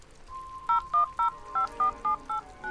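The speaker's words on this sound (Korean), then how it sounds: "명함에 나와 있는 번호로 전화를 걸었습니다" A telephone number is dialed on a touch-tone keypad: about nine short, clear beeps at a brisk, even pace, each a crisp electronic tone with brief gaps between, heard alone.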